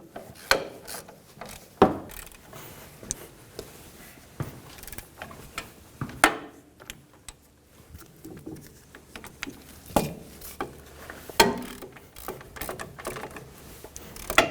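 Wheel hub bolts being run down by hand with a ratchet on a Ford Expedition front hub assembly, irregular clicking and metallic clunks with quiet gaps, close and alone.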